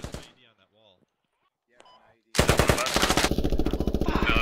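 Loud, sustained automatic gunfire in the military shooter game Squad, a rapid rhythmic burst of rifle fire after a stretch of quiet voices over radio chatter, continuing steadily to the end.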